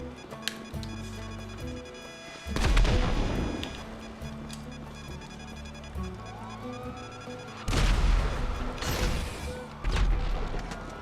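In a PS4 video game, loud crashing blasts go off twice, one after the other, among electronic tones and other game sounds; grenade explosions.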